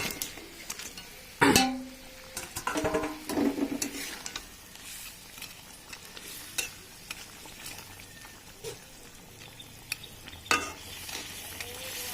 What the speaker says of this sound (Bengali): ঝোলটা ভালো মতন ফুটে গেছে, এবার আমি দিয়ে দেবো মাছ